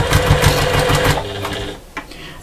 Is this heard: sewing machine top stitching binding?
yes